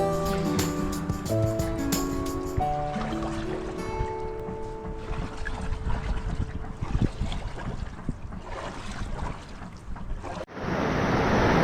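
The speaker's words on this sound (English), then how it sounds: "So there's the Canoe Creek right there. It sounds a lot bigger than it is." Continuous rushing flow of Canoe Creek near Valdez Glacier, a steady broad wash of water with some wind buffeting the microphone, ending in a louder gust.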